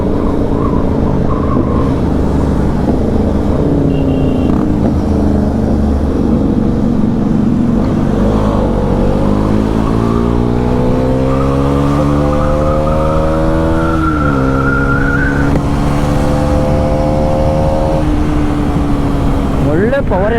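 Motorcycles with loud exhausts rev and roar up in pitch among a large gathering of bikers at a Shell fuel station, engines rising and falling close by with a voice talking over them.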